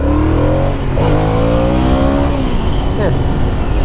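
A 2007 Ducati Monster 695 motorcycle accelerates hard in first gear, its engine pitch sweeping upward with a brief rev dip mid-run, loud and close with wind noise.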